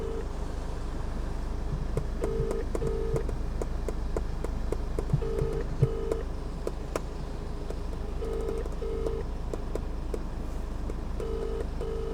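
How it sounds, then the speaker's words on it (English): Touch-tone keypad beeps from a phone dialing a call to a mechanic, short paired tones repeating in clusters every few seconds over a steady low hum, moderately close. "So I'm going to ring my mechanic Darren"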